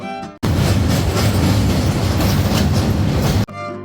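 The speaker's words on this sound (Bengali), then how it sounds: "ট্রেন চলার আওয়াজটা ব্রিজের উপর দিয়ে চলাটাকে আরও সুন্দর করে দিচ্ছে" A train crossing a bridge on the Khulna to Rajshahi line, heard from inside as a loud, dense rumble with clickety-clack wheel rhythm that cuts in abruptly and stops just as suddenly.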